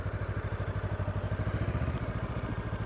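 A motorcycle engine pulses steadily at low revs, close and continuous, as the bike weaves through an offset cone course.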